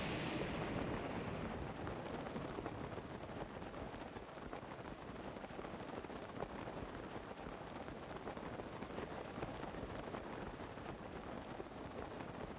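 Steady, dense rain hiss in Zelda: Breath of the Wild, a continuous even wash of falling rain with no talk, holding at the same level from start to finish.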